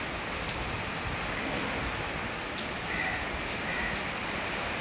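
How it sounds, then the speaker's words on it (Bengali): Heavy monsoon downpour pours steadily onto a veranda during a storm, a dense continuous roar of rain close by with occasional louder spatters, no voices. "এই যে মুষলধারে বৃষ্টি হচ্ছে"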